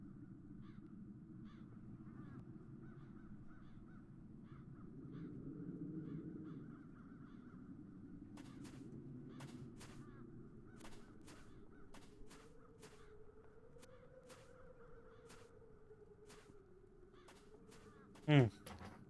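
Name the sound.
crows cawing in the video game The Dark Eye: Chains of Satinav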